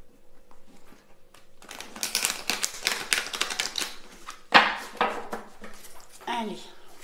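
Tarot or oracle cards taken from a box and reshuffled, giving a dense, close run of quick riffling and flicking with a few louder snaps as someone speaks in French at intervals.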